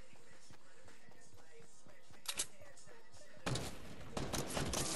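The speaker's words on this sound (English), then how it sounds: "He shot me as soon as I went past the wall of the house." Gunshots from a Fortnite duos match: sparse thuds early, then a loud burst of rapid shots in the final second and a half, heard close over faint game ambience.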